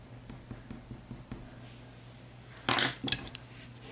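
Coloured pencil shading on paper under very light pressure, a soft, faint scratching in short repeated strokes, followed by a couple of louder rustling scrapes near the end.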